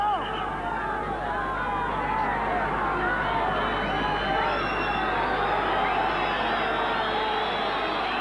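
A large football crowd at a 1995 Copa America match between Argentina and the United States, with a sustained, dense roar of whistles, jeers and murmuring filling the stadium throughout.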